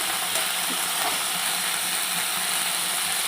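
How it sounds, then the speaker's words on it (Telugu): Washed mint leaves frying in a pan for pudina peanut chutney give a steady, close, even sizzle that holds without a break and has no talk over it. "ఇప్పుడు కడిగి పెట్టుకున్న పుదీనా వేసుకోవాలి ఇలా వేపేసుకోవాలండి"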